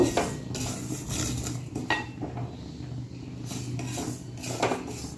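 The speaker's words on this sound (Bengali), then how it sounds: "ডালটা একটু ভেজে নিচ্ছি।" Lentils (dal) frying in a pot on a home kitchen stove, with repeated clinks and scrapes of a utensil stirring against the metal pot over a steady background hiss.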